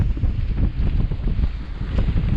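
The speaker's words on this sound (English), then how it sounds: "It is extremely windy here." Strong wind roars across the crater rim at Craters of the Moon, a loud, continuous buffeting gust that batters the microphone with no pause throughout.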